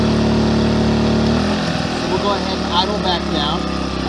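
An Amico AIG2000 2000W inverter generator runs loud and close, its engine tone sliding down as it idles back to a lower, steady drone while someone talks over it.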